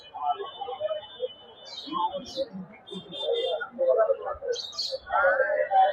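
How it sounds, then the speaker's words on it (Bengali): Small caged birds chirp and tweet in scattered bursts at an animal and bird market, with people talking nearby over the busy background. "এই যে কিউট কিউট পাখি আছে।"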